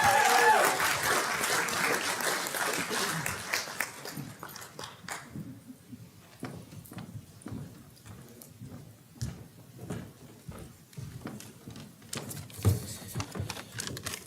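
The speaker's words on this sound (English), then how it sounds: "big round of applause" Audience applause at a California Democratic Party executive board meeting: a dense burst of clapping that fades after a few seconds into scattered individual claps and faint room noise.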